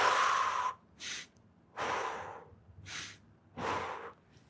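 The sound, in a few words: exhaling during a workout stretch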